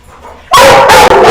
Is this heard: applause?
no